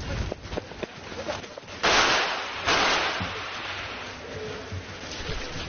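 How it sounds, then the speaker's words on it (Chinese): A gunshot rings out from a warehouse at a scrapyard, heard as sharp loud bursts near the middle of the clip, followed by a sustained noisy blast over a rough, busy background. "从废品站仓库传来了枪声。"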